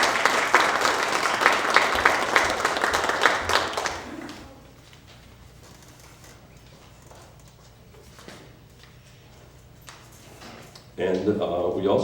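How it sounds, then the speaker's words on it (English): An audience at a community forum gives a high school student guest a round of applause, loud and dense for about four seconds, then drops away to quiet room noise before another burst near the end. "We want to give her a nice round of applause"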